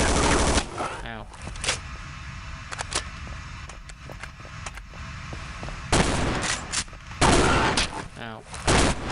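SMG fire in the Half-Life 1 mod Delta Particles comes in sharp bursts and scattered single shots, with loud rapid volleys near the start and end and a player talking between them.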